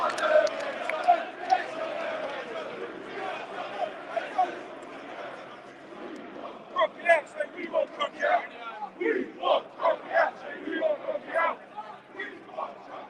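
A protest crowd outside the Emirates Stadium chants and shouts in rhythmic bursts, the voices growing louder and more insistent over the clip, heard from within the crowd.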